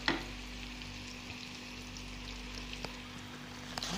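Potato chips fry in oil in a pan on low heat, making a quiet, steady sizzle with scattered small pops and crackles over a faint background hum.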